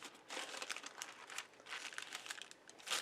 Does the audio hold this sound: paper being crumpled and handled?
yes